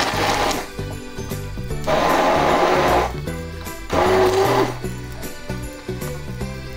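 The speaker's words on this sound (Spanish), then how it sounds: "para poderlo licuar con una de estas licuadoritas que son de mano" A handheld immersion blender whirs through gravy in a jug, running in loud bursts that rise and drop with quieter pauses between, backed by a steady mechanical hum.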